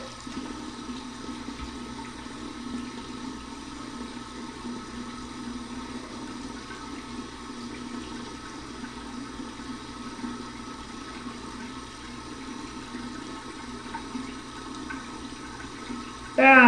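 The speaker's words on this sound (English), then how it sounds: "let's run this under some cold water" An alum block rinsed under cold running tap water, a steady close hiss of flowing water that continues evenly throughout, with a faint voice underneath at times.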